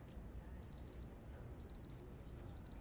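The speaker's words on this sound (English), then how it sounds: "You're beeping." Electronic reminder alarm for taking medication, beeping in three short bursts of four rapid high beeps each, evenly spaced and moderately clear over a low background rumble.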